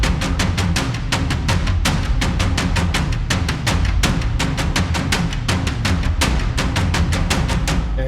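Three cinematic percussion instruments are layered into a dense, thundering ensemble: rapid toms and deep booming drums hit continuously and loudly with no gaps.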